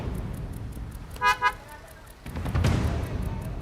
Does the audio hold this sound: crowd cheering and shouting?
no